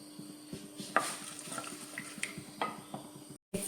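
Fennel seeds frying in a hot pan as a chicken curry begins, with a steady soft sizzle broken by scattered light clinks and scrapes of a spoon against the pan, close and fairly quiet, cutting out briefly near the end.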